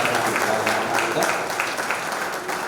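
An audience applauds at a book launch event, a dense, steady wash of clapping that holds its level for a few seconds.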